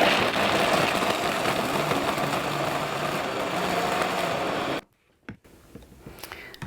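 A blender whizzes vegan chocolate hazelnut milk, a loud, steady motor whir running for nearly five seconds before cutting off abruptly, followed by quieter clinks and handling noises.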